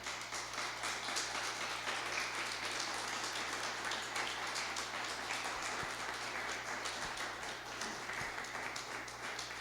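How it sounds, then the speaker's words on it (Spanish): Church congregation applauding in worship, sustained even clapping from many people heard from a distance over a low steady hum, with a few sharper taps. "Denle un aplauso al Señor, hermano."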